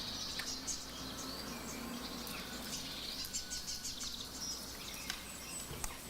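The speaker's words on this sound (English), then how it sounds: "a dry signal, which is basically a field recording with birds" Quiet outdoor ambience in a park, with scattered bird chirps and calls over a soft insect-like hiss, distant and continuous.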